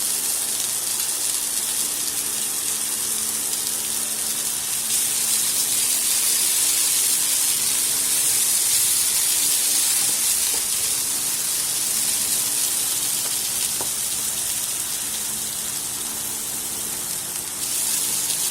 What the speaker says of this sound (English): I'm gonna go ahead and put about a tablespoon of chopped garlic